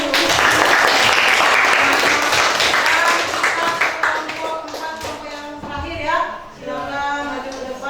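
A class gives a group presentation a round of applause, loud dense clapping from many hands that thins out toward the end, while voices speak over it.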